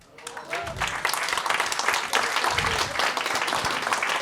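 An audience at a conference in Savoie breaks into applause that swells quickly and holds as a steady wash of clapping, with a voice briefly talking near the start.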